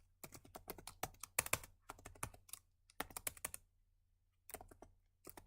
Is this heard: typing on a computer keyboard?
yes